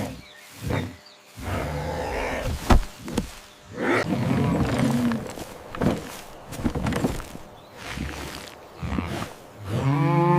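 Cartoon cows lowing on a farm, several drawn-out bellowing moos rising and falling over busy animated background sound, loud and close with no talking.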